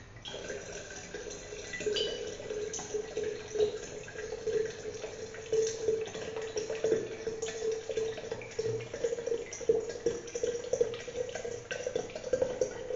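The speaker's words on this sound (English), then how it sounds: "Now we are going to add the rest of 700 ml of water" Cold water pours steadily into a tea mixture for kombucha for several seconds, a continuous splashing, gurgling stream heard close up with no talking.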